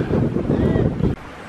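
Steady wind buffeting the microphone on a cold, cloudy ramble on Gummers How, a loud rumbling roar that cuts off abruptly near the end.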